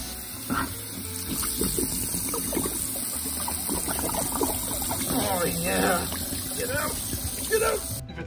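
Water running and sloshing inside an empty whiskey bottle being rinsed out, a bubbling trickle and gush heard under a speaking voice.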